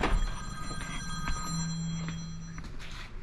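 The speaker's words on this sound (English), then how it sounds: "We got a phone call." A telephone rings in a garage while someone works on a 1971 Chevy C10, giving a steady electronic bell tone with a faint background and no speech.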